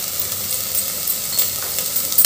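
Ground spices such as red chilli powder, kala masala and coriander-cumin powder frying in hot oil for khandeshi masala khichdi, a close, dense sizzle with a few stirring scrapes.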